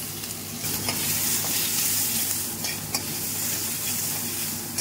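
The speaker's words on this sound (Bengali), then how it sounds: "ফোড়ন হয়ে গেছে, ফোড়নটা হয়ে গেছে, আমি এবার সবজিগুলো দিয়ে দিচ্ছি। গাজর আর বিনস" Carrots and beans stirred into hot oil over a lentil-dish tempering, a steady close sizzle of frying with soft scraping strokes of a spoon through the pan, no voices.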